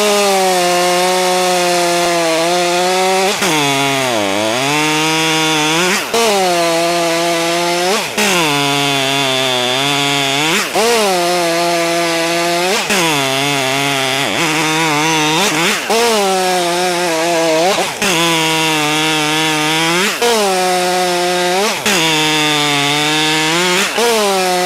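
Stihl MS201T and Husqvarna T540XP III chainsaws cutting oak in turns, loud high revving whine that dips and bogs during each cut, with short breaks between passes, close up and continuous.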